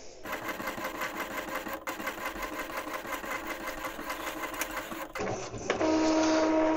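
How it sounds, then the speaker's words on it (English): An Epson EcoTank L3270 inkjet printer prints pages with a steady, close mechanical whirring and rhythmic feed chatter, then shifts near the end into a louder constant whine with tonal hum. "Now the printer will give you three pages"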